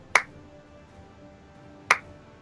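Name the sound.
slow clap imitated during Dungeons and Dragons session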